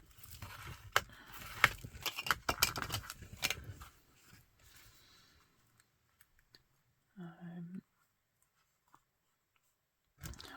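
Scissors snip through a paper junk mail envelope in a few quick close cuts with rustling paper, then near silence broken by a brief faint sound.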